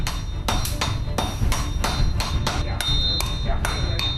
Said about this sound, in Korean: 큰 망치와 작은 망치로 번갈아 두드려 쇠를 넓히면